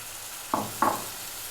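Chopped blended tomatoes frying in a curry pan, two short sizzling bursts as the mixture is stirred, close and fairly quiet over a low steady hiss.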